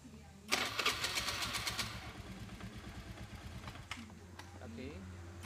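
A Honda Vario scooter with a double-starter fault cranks and fires up, a quick burst of starter clatter settling into a steady close idle hum, with faint talk underneath.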